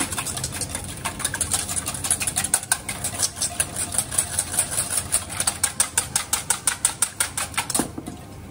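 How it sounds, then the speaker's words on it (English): An egg yolk being whisked in a bowl for carbonara, with a quick, even train of metallic clicks that gets sharper and more regular toward the end, close and alone. "Give it a whisk."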